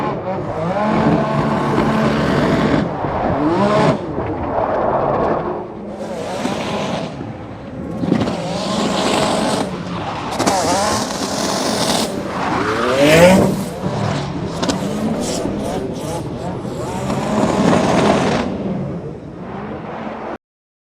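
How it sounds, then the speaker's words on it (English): A Ferrari drift car at a Formula Drift round in Irwindale, its engine roaring and revving continuously as tires squeal and skid, loud and close throughout with no talk. "let's listen to Fiorella. This Ferrari here of Federico Sharifo"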